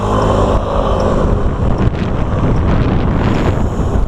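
Loud, steady roaring wind buffeting a motorcycle half helmet, a dense low rumble with gusty fluctuations, like riding at speed in open air.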